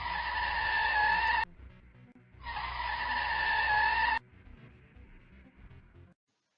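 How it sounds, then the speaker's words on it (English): A car's tires skid and screech in two loud sustained bursts of about one and a half seconds each, separated by a short pause, then a lower engine rumble fades as the car speeds away. "then loaded the car and sped away."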